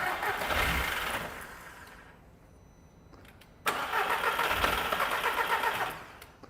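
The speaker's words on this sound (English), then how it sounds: "I'll let John just crank it over for a minute." A car engine cranks over on the starter in two long bursts separated by a brief quieter pause, a steady close churning drone without catching.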